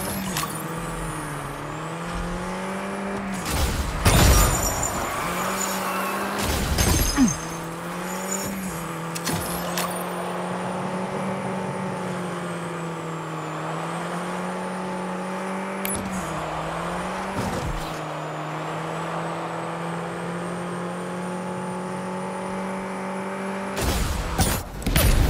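Car engines whine and rev steadily through a vehicular combat match in the video game Destruction AllStars, broken by several sharp crashing impacts from wrecks, with a loud crunch near the start and more at the end.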